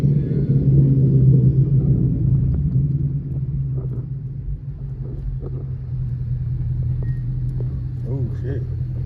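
A 2019 Mustang GT with a newly installed clutch rumbles along on a test drive, a steady low engine drone heard from inside the car, loudest at the start and then easing slightly, with people talking over it.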